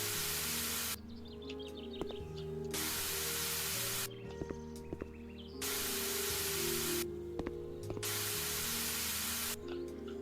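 Water spray hissing in repeated bursts while watering plants in House Flipper, each spray lasting one to two seconds with short gaps between, set over steady game background music.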